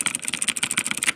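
Rapid clicking keystrokes on a clicky mechanical computer keyboard, close and even in rhythm, about a dozen sharp taps in quick succession with no voices.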